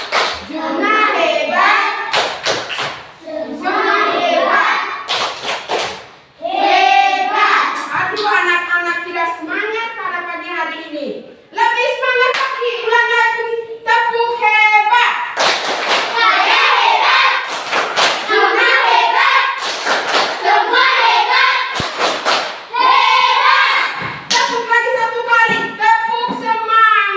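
Children clapping together in a classroom, loud rhythmic bursts of hand claps mixed with chanted voices of a teacher and kids, close and continuous.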